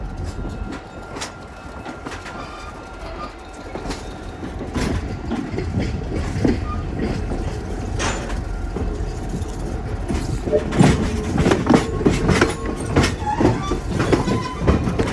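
An AAPRCO special passenger train rolls on Vermont Railway track into the North Walpole yard, with a continuous rumble, rhythmic wheel clatter over rail joints and occasional squeals, growing louder and closer toward the end.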